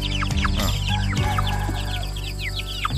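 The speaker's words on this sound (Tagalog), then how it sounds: "Ito na yung ating mga sisiw ng Rhode Island Red." Rhode Island Red and native chicks and chickens cheep and cluck together nearby, a dense, steady chorus of high, quick chick peeps over lower hen clucks.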